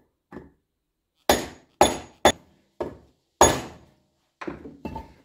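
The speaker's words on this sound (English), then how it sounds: "get her tapped, start with a mallet." A mallet taps a bushing into a Club Car golf cart front suspension, giving seven sharp, separate knocks at an uneven pace, loud and close, each with a short ringing decay.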